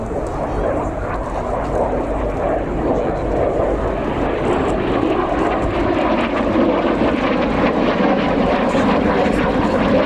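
A Jet Provost T1 jet trainer flies at the RAF Cosford airshow, its engine a loud, steady, close roar that fills the whole stretch, with a voice speaking over it.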